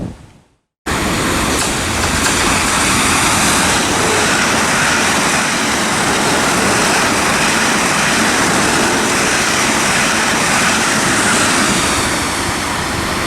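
A twelve-coach Class 450 train rushes through Weybridge station on the South West Main Line, a loud, broad, continuous roar starting abruptly and holding steady close by.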